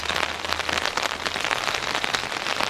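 Steady early-morning rain falling outside in Dali, a dense continuous patter of drops on surfaces, close and fairly loud with no voices.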